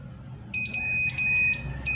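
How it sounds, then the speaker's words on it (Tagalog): A Morse code project's electronic buzzer, switched on and off, sounds in several short bursts, stopping and starting again, loud and shrill over a low background hum. "A buzzer that you can turn it on and off using a switch."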